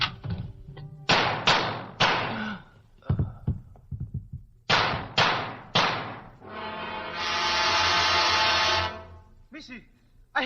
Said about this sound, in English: Suddenly, the door of the bungalow is flung open.